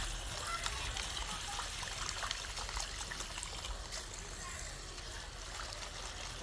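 Water pours and trickles steadily over rice in a rice washer during backyard cooking, a continuous close splashing stream with faint voices underneath.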